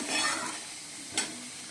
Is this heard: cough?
no